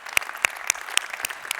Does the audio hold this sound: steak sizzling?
no